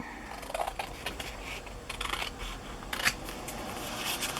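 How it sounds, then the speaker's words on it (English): Scissors cut through strips of tape during a boho cover craft project, giving a few faint, quick snips over a soft rustling background, with one crisper cut near the end. "I just put a strip of tape in the middle, or more if it's a bigger piece, and then just put it where I want it. And cut it."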